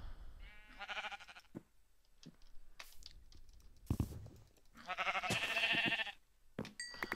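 Sheep in a Minecraft-style video game, from the Big Dig modpack, give two clear bleats, one early and one longer near the end, alongside light keyboard clicking.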